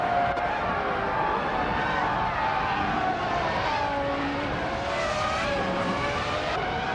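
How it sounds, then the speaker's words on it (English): A Ferrari F300 race car lapping a track in a racing video game, heard as a constant loud high-revving engine scream with shifting pitch and faint tire noise, sustained throughout without talk. "Amy is currently in 6th place, driving a Ferrari F300"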